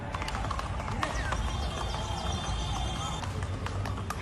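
Hooves of a horse clopping on the ground as it is led toward a gate, a series of light, irregular thuds over a steady background hum, with faint voices underneath.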